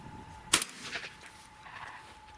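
A single sharp shotgun blast from a Fabarm XLR5 Gryphon, heard at a distance and fading quickly into the open air, with no voices.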